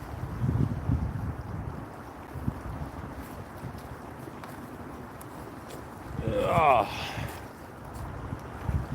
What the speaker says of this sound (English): Brutal wind.